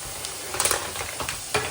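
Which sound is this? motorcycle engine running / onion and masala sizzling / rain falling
onion and masala sizzling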